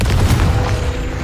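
Confringo explosive spell blast in Hogwarts Legacy, a single loud, deep boom that rumbles and slowly decays over about a second.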